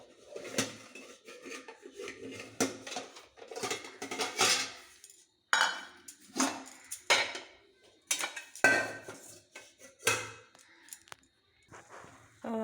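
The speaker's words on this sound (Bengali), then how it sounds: "একদিকে চায়ের জল বসিয়ে দিয়েছি, আর একদিকে একটু পাউরুটি সেঁকতে দিয়েছি" In a home kitchen, pots and metal utensils clink and clatter while tea water is set to boil and bread is toasted. The clanks come in irregular bursts with short quiet gaps between them.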